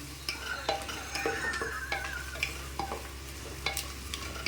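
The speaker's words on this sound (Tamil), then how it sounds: "நன்கு காய் வதங்க வேண்டும்." Vegetables for veg biryani sauté in a pan with a quiet sizzle. A utensil stirs and scrapes them in short, repeated strokes, close but faint.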